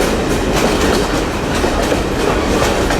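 A Conway Scenic Railroad passenger train rolls along the rails, giving a loud, continuous rumble with rhythmic clickety-clack from the wheels, heard close up from on board and without voices.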